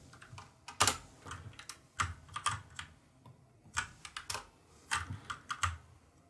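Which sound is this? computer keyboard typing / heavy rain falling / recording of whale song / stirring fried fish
computer keyboard typing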